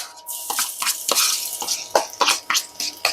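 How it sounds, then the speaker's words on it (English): Crackling, spitting sizzle of garlic frying in a hot pan, with sharp pops and bursts in a steady irregular rhythm, close and fairly loud. "And it will sizzle nicely."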